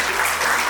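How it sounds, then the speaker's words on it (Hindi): Applause from an association's anniversary gathering, a short burst of loud, dense clapping from an audience welcoming a guest. "इनका तालियों के साथ स्वागत करेंगे"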